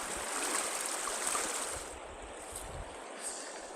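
Cool water of the Blackfoot River flowing around a wader, a steady broadband rushing hiss that eases slightly partway through, with no voices.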